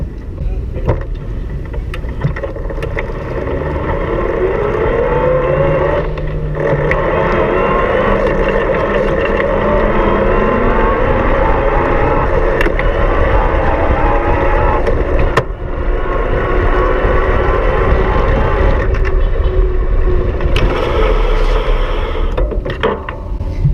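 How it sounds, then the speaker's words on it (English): A Walleräng M.01 e-bike rides in eco mode while shifting through its gears. Steady wind and road rumble run throughout, with a faint motor whine rising partway through. "I'm gonna start out in eco mode and just shift through the gears."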